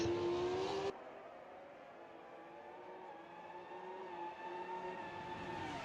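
Race cars at Imola in an F1 racing video game, engine whine droning steadily with a loud opening burst that drops into a sustained, slightly fluctuating roar of several cars.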